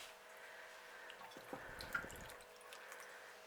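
A few faint, soft drips of runoff water falling from a freshly watered potted plant in a quiet space, irregular and close, clustered in the middle.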